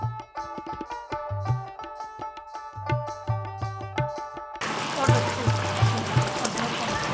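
Pabda fish going into a pot of boiling water for Bengali mustard curry: a vocal, tonal stretch gives way to a sudden, loud, rushing bubble and splash that continues to the end.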